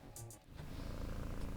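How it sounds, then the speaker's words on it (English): A pet cat purrs close by indoors, a steady low rumbling purr that grows and continues through most of the moment, with a brief faint higher sound near the start. "my cat sits here with me and she's purring"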